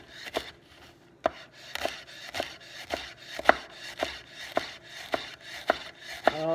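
A knife dices leek on a wooden board in a steady series of about a dozen crisp, close chops, evenly spaced, with no talking.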